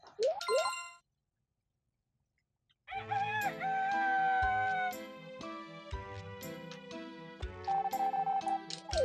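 Chickens cluck in the farming video game Harvest Moon 64, with chirpy synthesized bird calls over bright game music and sound effects, after a brief silent gap near the start.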